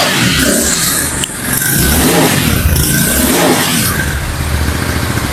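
A 2025 Royal Enfield motorcycle engine starts and revs loudly nearby, rising and falling in a few strong bursts of throttle, steady and rough throughout.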